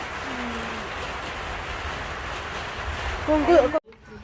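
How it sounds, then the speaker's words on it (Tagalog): Steady rain falls on Shoalhaven beach during a storm as a constant broadband hiss, a brief voice rising near the end before the sound cuts off abruptly. "Hindi pa rin tumitigil ang ulan."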